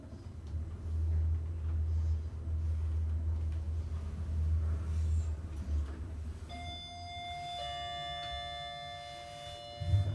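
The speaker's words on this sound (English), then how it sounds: "Going up." A lift in a Lincoln town centre building hums and rumbles steadily as it travels upward, followed by a sustained electronic tone and short beeps toward the end.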